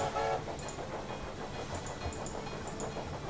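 A train arriving in the railway game Railway Empire 2 gives off a steady hiss and rumble with faint clicking and brief high squeals throughout, continuous and fairly loud.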